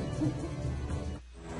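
An owl hoots in a fantasy video game, a low hooting call under a steady background hum, with no talking.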